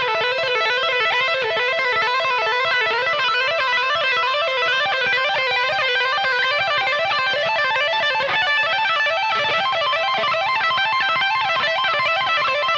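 Fast electric guitar tapping lick combining descending and ascending runs on one string, a dense continuous stream of rapid notes, loud and alone for the whole stretch.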